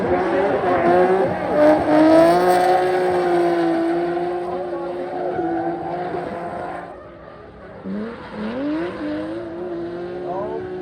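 Drift cars battling on a track, engines revving in long rising and falling harmonic tones with tires squealing, loud and continuous, under a commentator's voice.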